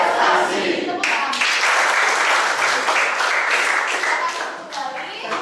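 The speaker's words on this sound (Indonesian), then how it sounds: "Tepuk tangan." Students clapping hands in a biology class at SMA Negeri 12 Semarang, a burst of loud, dense, close applause from the classroom that carries on steadily, with children's voices and a teacher's speech mixed in.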